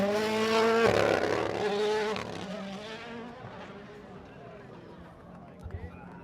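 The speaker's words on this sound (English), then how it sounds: "Elfyn Evans in the Rally 1 car." A Rally1 car launches from a rally stage start at Goodwood Festival of Speed, its engine snarling loudly up front and then fading fast into the distance as the car pulls away.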